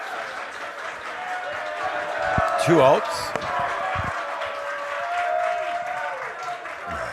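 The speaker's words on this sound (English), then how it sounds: "The boys just cheering on one of their own members there" Crowd at an amateur baseball game between American Legion teams cheers and claps from the stands, a burst of shouting swelling midway, under a commentator's voice.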